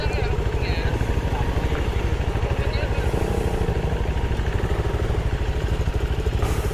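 A motorcycle ridden off-road near Chikmagalur chugs with a steady, rapid engine pulse throughout, close and fairly loud, while riders talk over it.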